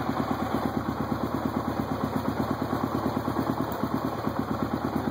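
Close by, the single engine of a 1993 Yamaha Tenere 600 motorcycle holds a steady idle, its even rapid thumping pulse continuing without pause for several seconds with no one speaking.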